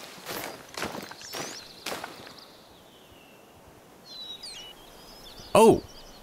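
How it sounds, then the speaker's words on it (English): Soft footsteps crunch in a quick run of steps early on in theHunter: Call of the Wild, set in the Yukon Valley, followed by quieter ambience with faint bird calls and one sharp burst near the end. "I thought I heard footsteps."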